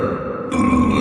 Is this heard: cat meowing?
no